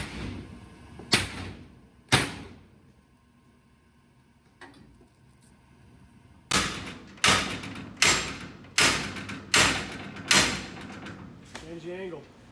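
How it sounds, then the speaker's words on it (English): Firefighter recruits force entry through a door with hand tools: two sharp knocks early on, then a run of six loud, evenly spaced metallic blows near at hand, with voices talking between strikes. "teaching them how to use their tools to make entry into the various types of doors that we could encounter"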